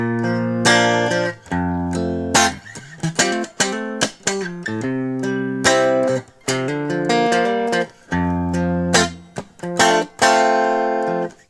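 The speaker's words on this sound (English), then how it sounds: "These are little licks that feature on his records, often in the rhythm guitar part, in the gaps between vocal lines" Electric guitar licks of the kind played in rhythm parts between vocal lines, heard as loud, close, choppy bursts of chords and bent notes separated by brief gaps, with no talking.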